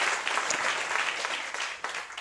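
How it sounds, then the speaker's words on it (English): Brief, dense round of audience applause at a university research talk event. The clapping is steady and moderately loud across the whole stretch, with no speech above it. "Please give Isma a round of applause."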